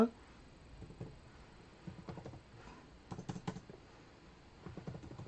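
Someone types on a computer keyboard in short irregular bursts of quiet clicking with pauses between, close by, while a voice speaks in between.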